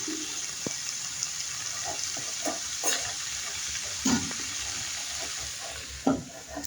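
Onion stalks frying in a pan, a constant hiss of sizzling oil with occasional spatula knocks and scrapes as they are stirred, close by and with no voices.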